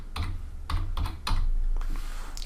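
Close keys on a computer keyboard are typed in several quick bursts of crisp clicks with short pauses between, with no talk.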